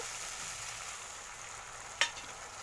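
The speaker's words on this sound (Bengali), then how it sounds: "মশলাটাকে একটু কষিয়ে নেব, কষিয়ে নিয়ে আমি একটু জল অ্যাড করব।" Spice paste for a rohu fish curry is stir-fried in a pan, giving a steady close sizzle with one sharp scrape of the spoon partway through.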